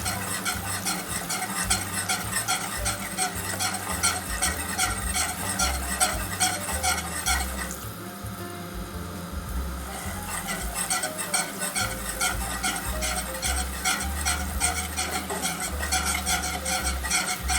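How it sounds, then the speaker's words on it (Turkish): Ingredients for a milky tomato soup sizzle and get stirred in a pot with olive oil, a spoon scraping in a steady repeating rhythm over continuous frying hiss, briefly easing off midway before resuming. "Rengi bayağı şöyle bir dönene kadar. Kavuracağız."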